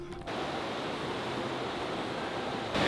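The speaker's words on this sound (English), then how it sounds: "I've never been this close to that like big of a waterfall before" Steady, dense roar of a large waterfall near Whistler, heard up close as continuous broadband rushing water that stays loud throughout, with a brief quieter moment at the very start.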